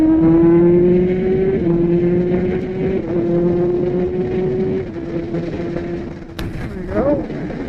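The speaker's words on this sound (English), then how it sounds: "let's see how that blipper does in a little bit lower than 10k RPM" Kawasaki ZX-10R Gen6 sport bike engine held at steady high revs with quickshifter blipper activity, a loud sustained whine with brief dips and a sharp blip near the end, close and alone.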